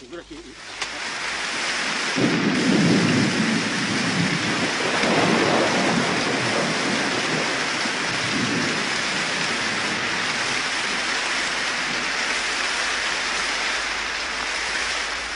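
Heavy rain pours steadily in the Amazon rainforest as thunder rolls and rumbles low beneath it, a dense, continuous downpour that holds at full strength throughout.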